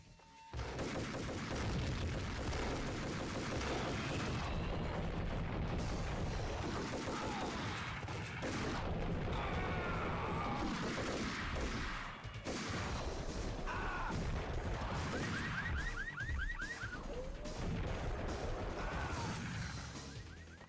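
Dense gunfire from the video game Max Payne, a sustained loud barrage of shots, crashes and impacts running nearly the whole stretch, layered over a busy game soundtrack.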